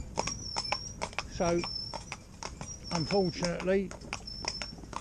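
A Welsh Cob cross mare walks with steady, rhythmic clip-clopping hooves close by, while a person talks over the footfalls.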